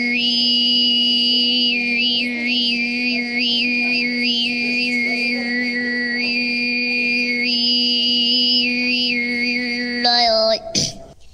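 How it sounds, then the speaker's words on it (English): Tuvan throat singing, one voice holding a steady low drone while a whistling overtone melody shifts above it, continuous and close, breaking off abruptly near the end. "The sound you are hearing is what is known as throat or harmonic singing."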